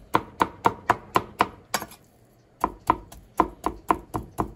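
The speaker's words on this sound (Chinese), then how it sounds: "稍微剁一剁就好，就不用啊把它剁成泥状，剁成小的一些的碎块是最好吃的状态。" Pork being chopped into small pieces for homemade sausage, a cleaver striking a board in brisk regular blows, a short pause, then another rapid run of close, sharp knocks.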